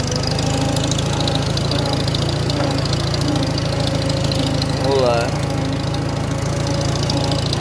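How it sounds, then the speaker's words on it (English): An old Farmall 350 farm tractor engine gives a steady, low rumble throughout, with a brief voice near the end. "So back the old tractor up here."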